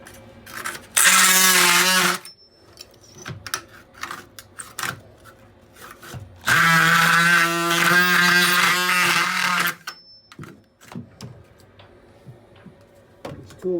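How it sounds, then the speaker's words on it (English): An oscillating multi-tool trims fiberglass inside a sailboat cabin during demolition. Two loud, buzzing cutting bursts of a few seconds each are separated by quieter knocks and handling sounds, close by with no talk. "With the multi-tool here, basically trimming up things."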